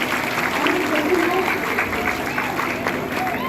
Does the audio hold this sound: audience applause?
yes